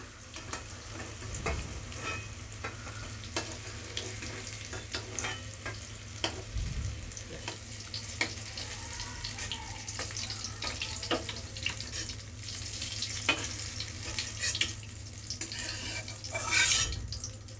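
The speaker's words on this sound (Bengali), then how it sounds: "আমার মিডিয়ামভাবে ভাজা হয়ে গেছে পনিরগুলো এবার আমি পনিরগুলোকে তুলে রাখবো" Paneer cubes fry in oil to a medium finish, a continuous close sizzle broken by repeated sharp clinks and scrapes of a utensil lifting and stirring the pieces.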